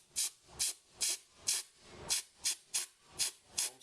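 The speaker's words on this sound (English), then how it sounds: "open the valve a little bit, and we're going to spray." DAP Draftstop 812 door and window foam sealant sprays in short hissing bursts from an aerosol applicator tool, about nine evenly spaced spurts, close and fairly loud with no talking.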